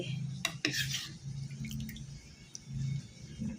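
A ladle scraping and clinking in a pot while bamboo shoot curry is scooped out, a few metallic knocks and scrapes up close over a low steady hum.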